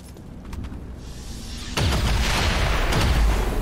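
XCOM 2: War of the Chosen shot goes off as one sudden loud booming blast midway through, followed by a rumbling, noisy tail after a quieter lead-in.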